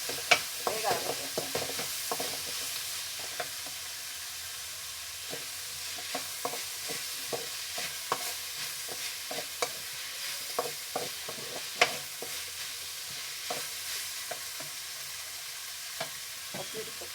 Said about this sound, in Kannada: ಸ್ವಲ್ಪ ಹಸಿ ವಾಸನೆ ಹೋಗೋವರೆಗೂ ಫ್ರೈ ಮಾಡೋಣ. ತರಕಾರಿ ಹಾಕ್ತಾಯಿದ್ದೀನಿ.